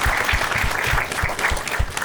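An audience on a Marathi talk show claps steadily, a dense burst of applause sustained throughout with no speech on top.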